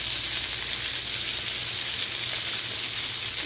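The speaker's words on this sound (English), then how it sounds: "So we're gonna put some onions on the grill." Red onions sizzling on a grill: a steady, loud hiss and crackle of frying that goes on without a break, with no talking.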